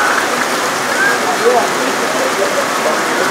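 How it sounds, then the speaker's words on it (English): Heavy rain pours down at a high school football game, a dense, even hiss of downpour filling the air while an announcer talks over it. "Rain let up for just a moment, and now it's coming down even harder."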